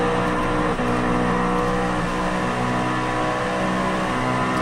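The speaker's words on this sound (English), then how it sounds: "But look at that power of the GT500 on the straight." GT500 race car in the video game BeamNG pulling hard down a straight, a loud sustained engine roar with dense harmonics and no talk.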